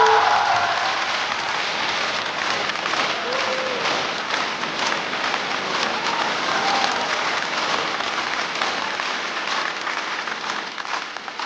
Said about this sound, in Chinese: 掌声欢迎不辣。